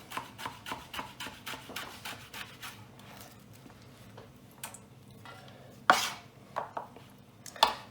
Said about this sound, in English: Cut it into a thing called a julienne.